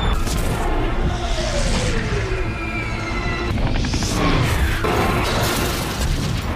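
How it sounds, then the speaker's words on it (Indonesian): Cinematic helicopter explosion after a Stinger missile strike in a rescue-mission action film: dense, loud rumbling blasts and crashing debris with sweeping pitch bends and mechanical whine, continuous throughout under a music-like score. "Tongli memanfaatkan situasi tersebut dengan menembakkan manpad Stinger ke helikopter. Tanpa ampun, helikopter pun hancur lebur"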